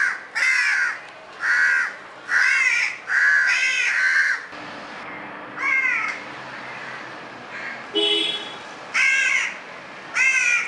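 A young crow caws repeatedly while climbing up tree branches outdoors, calling to its parent crows: clear, fairly close harsh calls in bursts of about a second, several in a row with short pauses, over light background hiss.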